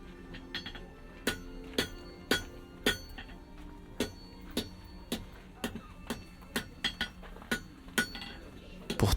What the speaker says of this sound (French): Et le marteau sur l'enclume.